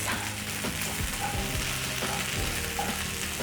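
Onions caramelizing in a pan for a grilled cheese sandwich, frying with a steady, close, dense sizzle throughout while a utensil stirs them, with occasional soft scrapes and clicks.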